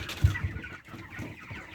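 Broiler chickens clucking nearby on a village farm, a few soft, irregular clucks and murmurs with a louder burst early on, no speech.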